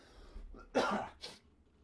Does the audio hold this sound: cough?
yes